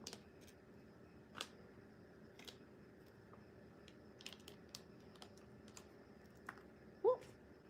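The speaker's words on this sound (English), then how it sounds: "I don't know if anybody else enjoys the clicking sound that you get with putting Lego together." Lego pieces from a mineral and crystal building set snap together in a quiet room, giving sparse, faint, sharp clicks spaced a second or more apart, with one louder click near the end.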